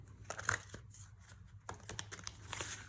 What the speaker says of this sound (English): I will try to shuffle it now.